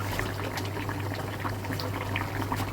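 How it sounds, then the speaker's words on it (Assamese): A pot of fish curry with Malabar spinach bubbles and simmers steadily close by, with constant gurgling and popping over a low hum. "আৰু এয়া তৰকাৰী উতলি আছে"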